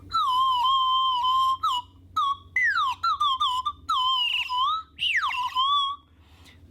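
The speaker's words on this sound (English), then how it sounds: "So it sounds kind of like a slide whistle" A handmade ceramic water whistle with a very long tube plays short warbling notes that bend up and down like a slide whistle, bright, close and loud, in quick bursts with brief gaps.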